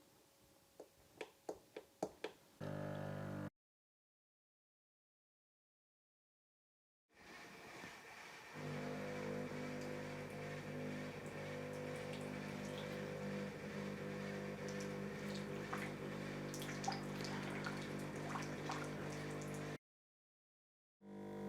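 Nespresso Vertuo Plus coffee machine by Krups running a cleaning cycle, a few clicks and then a steady motorised pump hum that runs at length, broken by brief silences.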